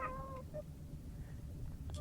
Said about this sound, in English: It sounds like the void cat cometh.